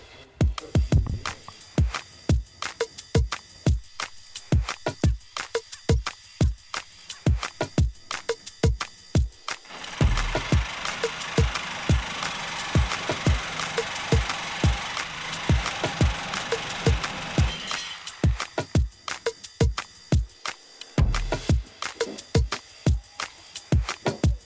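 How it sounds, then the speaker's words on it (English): A Sawzall reciprocating saw cuts through a stuck wheelbarrow nut, with close, loud, rapid rhythmic rasping strokes, a steadier continuous stretch in the middle, and brief pauses between bursts. "So instead of using a screwdriver and a wrench to get it off, we're going to use a sawzall."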